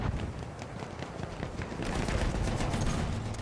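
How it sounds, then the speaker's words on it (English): Bursts of rapid machine gun fire in the World War I shooter game Battlefield 1, crackling and dense with overlapping shots amid battle noise, no clear talking. "Machine gun! One of theirs!"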